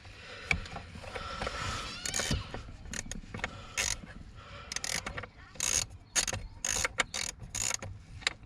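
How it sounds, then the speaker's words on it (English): Screw driven into a worn seat base clamp on a 2009 Mercedes-Benz W204 C200, heard as close, intermittent ratcheting clicks and short mechanical bursts with brief pauses between turns. "slot in this next clamp. Get the screw started."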